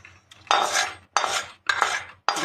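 Spices mixed with hot oil that had fried five-spice and dried red chillies, stirred in a bowl: four bursts of scraping, clinking metal-on-bowl stirring, each about half a second long, separated by brief pauses.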